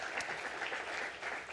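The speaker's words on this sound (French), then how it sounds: "on peut l'applaudir effectivement." A live audience applauds at a talk on climate change and the future of Southwest France vineyards: steady, dense clapping throughout, moderately loud, with no voices.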